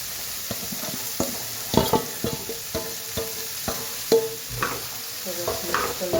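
Okra seasoned with asafoetida and turmeric sizzles in a pan while a spoon stirs it, giving a run of sharp scraping and clattering strokes over a soft frying hiss, close and fairly loud.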